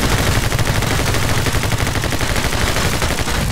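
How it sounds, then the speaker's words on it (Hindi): Rapid, continuous machine gun fire in the video game My Friend Pedro, a dense, loud stream of closely spaced shots that runs without pause from start to finish. "अरे मशीन गन"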